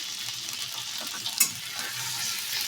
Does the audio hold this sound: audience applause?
no